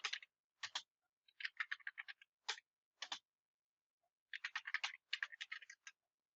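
Password keystrokes tapped on a computer keyboard at a Linux prompt, arriving as quick, close clicks in short irregular bursts broken by brief pauses, with no voices.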